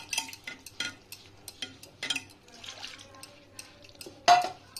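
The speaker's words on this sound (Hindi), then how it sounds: "इसे हाथ से मिक्स करने में अच्छा रहेगा, ज़्यादा अच्छा से मिक्स हो जाएगा" Gram flour (besan) is mixed with water by hand in a bowl, heard as soft, irregular wet squelches and scrapes, close up and fairly quiet, with a sharper clink near the end.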